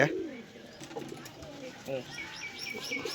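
Indian fantail pigeons at a pigeon farm, with soft coos, light chirps and brief wing flaps close by under steady background noise, while people talk over them.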